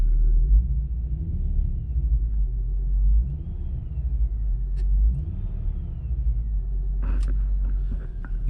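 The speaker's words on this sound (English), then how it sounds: "I've got a blower motor. You can hear it still with the radio turned off" A worn, noisy blower motor in a 2000–2004 Volvo S60/V70/XC70 runs inside the cabin with the radio off, giving a steady low droning rumble with a faint whirring whine above it and no talking.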